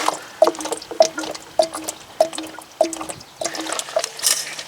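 Engine oil draining from the pan of a Kubota B2601 compact tractor during its first 50-hour service, giving a run of about seven evenly spaced liquid glugs and gurgles against a steady pouring trickle.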